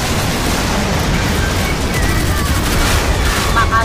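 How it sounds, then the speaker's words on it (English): A heavy machine gun fires in the Modern Warships naval combat game, a dense, continuous roar of rapid shots that stays loud and unbroken through the short burst, with voices faintly mixed in. "Heavy machine gun."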